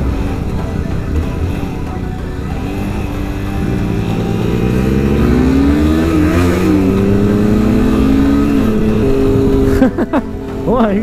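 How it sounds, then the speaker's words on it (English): A Yamaha FZ09 motorcycle engine drones steadily while riding, its pitch rising and falling with throttle changes, loud and close under rushing wind, then breaking off with a short disturbance near the end. "Beautiful Yamaha FZ09"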